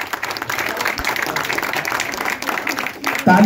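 Applause from an audience at an office welcome event, a dense steady patter of clapping that fades quickly before a voice starts speaking.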